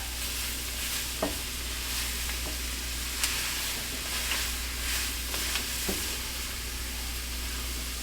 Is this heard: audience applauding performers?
no